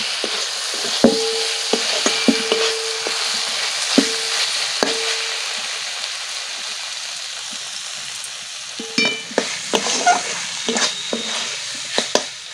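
Flat beans with slit green chillies and mustard paste frying uncovered in a pan, a steady bright sizzle broken by repeated scraping stirs of a spatula, close and alone.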